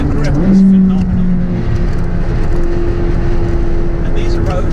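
A McLaren 600LT driving on a bumpy lakeside road, its engine droning steadily with tire and road rumble throughout, close and loud, with someone talking over it.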